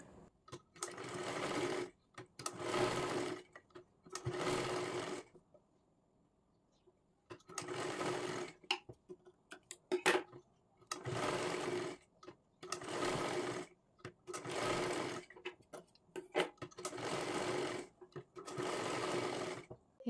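A sewing machine stitches the shoulder seam of a baby girl's frock in repeated close bursts of rapid, steady whirring, about ten runs separated by short pauses and one longer gap.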